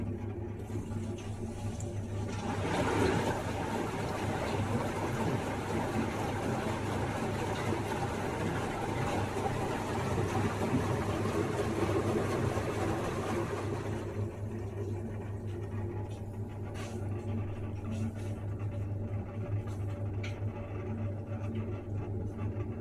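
A Beko HTV8633 washer-dryer drains its water with a loud, steady whirring pump and rushing flow for about fourteen seconds, then cuts off to a quieter lingering hum.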